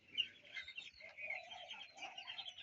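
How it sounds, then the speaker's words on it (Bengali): Broiler chickens newly stocked in a poultry house ahead of the Eid market chirp and cluck softly and continuously, a faint, busy flock sound with no talking. "এইবার ঈদের বাজারের আশায় মুরগিগুলো উঠাইছি।"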